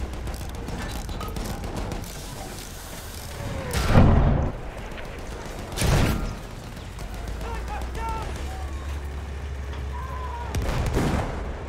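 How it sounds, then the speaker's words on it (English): Mortar shells slam down in a Battlefield-style tank match on a gas assault map, three heavy booming impacts at about four, six and eleven seconds, loud against a constant rumble of engines and battlefield clatter. "So many mortars on this server where mortars is not allowed."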